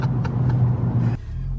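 A Honda Civic Type R fitted with a Mishimoto cold air intake drones steadily under load and then cuts off abruptly, as if on a gear shift, heard loud from inside the car.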